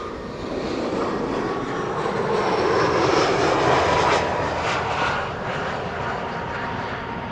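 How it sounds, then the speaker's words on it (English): A twin-engine jet airliner passes overhead at Amsterdam Schiphol Airport on a sunny day, its continuous roar building to a peak mid-pass and then slowly easing away, with no talking. "I see a twin jet and hear it passing overhead, not producing a significant contrail, but definitely something."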